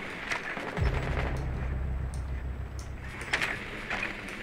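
Gunfire in the tactical shooter Rainbow Six Siege, a sharp burst followed by a sustained low mechanical rattle and scattered cracks, moderately quiet and without speech.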